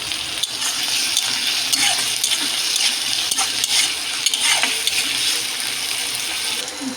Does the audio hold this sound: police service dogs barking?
no